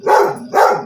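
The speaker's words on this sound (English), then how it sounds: "he's barking at himself on the television" Dog barking at its own image on a television: two loud, close, full barks about half a second apart, with no voices.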